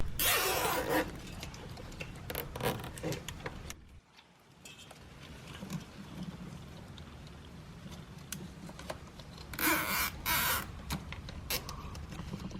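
Purple plastic zip ties are ratcheted tight while working on a car, giving sharp zipping bursts at the start, around the middle and again near the end, with quieter handling and shuffling between.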